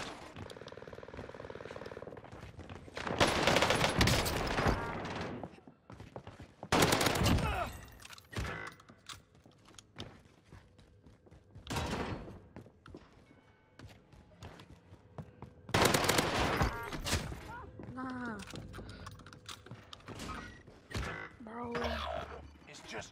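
Gunfire from the video game Call of Duty on Rebirth Island: loud bursts of automatic fire and sharp shots in clusters, mixed with game effects and occasional player talk.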